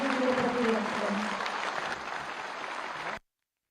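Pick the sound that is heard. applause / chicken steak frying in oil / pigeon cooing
applause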